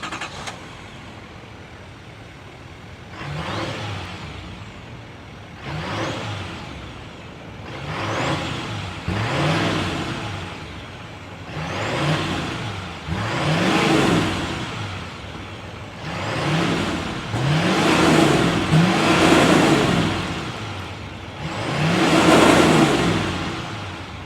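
A 2025 GMC Sierra 2500 AT4 with a 6.6-liter Duramax V8 diesel runs and is revved in a series of swelling bursts that rise and fall roughly every two seconds, loud and close, with no talking.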